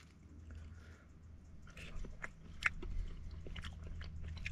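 Someone bites and chews food close to the mic while camping beside a teardrop trailer in Madera Canyon, Arizona. The crunchy bites and chewing are faint, with no talking.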